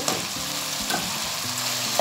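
Washed rice fries in a pan with onion and chicken, giving a steady close sizzle with faint stirring scrapes and a couple of light clicks.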